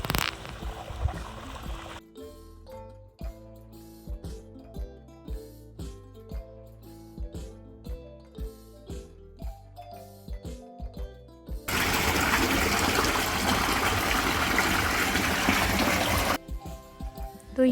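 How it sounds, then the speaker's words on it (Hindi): Water poured over freshly sown okra seeds in a summer vegetable garden, a steady splashing stream that runs for several seconds after a stretch of rhythmic knocking and clatter, loud and close. "इसके बाद दे दिया इसमें पानी, क्योंकि बिना पानी तो फिर ये मुरझा जाएंगी।"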